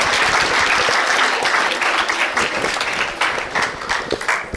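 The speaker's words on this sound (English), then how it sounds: "Let's give Steve a round of applause." Wedding guests at the reception speeches give loud, close applause, a dense burst of many hands clapping that holds strong for several seconds, then thins into scattered claps toward the end.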